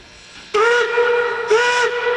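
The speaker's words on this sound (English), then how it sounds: "4 blasts of the whistle announces our departure from Sublet" Narrow-gauge steam locomotive 463 of the Cumbres and Toltec (Denver & Rio Grande), its chime whistle sounding loud and close in two long blasts, the second following just after the first.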